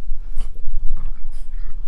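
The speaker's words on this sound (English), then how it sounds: "So these are my neighbor's dogs." A neighbor's dogs in a backyard make close, loud bursts of snuffling, panting and brief whimpery noises over a couple of seconds.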